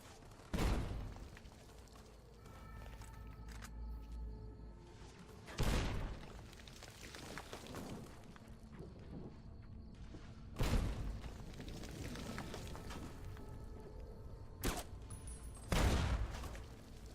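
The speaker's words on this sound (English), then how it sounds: "Ignore the explosions." Explosions and gunfire in the combat game Fallout: New Vegas: four heavy booms spaced several seconds apart, with rattling shots and crackle between them.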